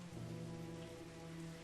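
Steady rain pattering throughout in a video game scene, a dense even hiss with a low tonal hum underneath and faint thunder-like rumble, no voices.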